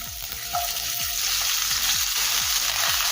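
Beans, carrot and cauliflower fry in a pan of oil tempered with cloves, cardamom, cinnamon and bay leaf, giving a steady loud sizzle with regular scraping stir strokes and no voices.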